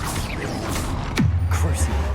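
Confringo fire spell cast in Hogwarts Legacy, a single swooping whoosh falling in pitch into a low rumbling impact, loud and close over a busy game background.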